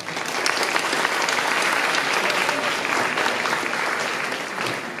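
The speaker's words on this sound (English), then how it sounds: "Let's give them a warm round of applause." Audience applause at a school band concert of joint ensembles, a dense sustained clapping from a full hall lasting the whole stretch without pause.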